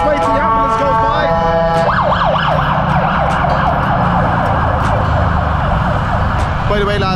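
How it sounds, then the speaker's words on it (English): A loud ambulance siren wails in rapid repeating sweeps close by, over road traffic noise. "I'll just wait till the ambulance goes by."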